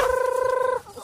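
A chicken lets out a single steady, nasal call lasting under a second, close by, followed by a brief quiet.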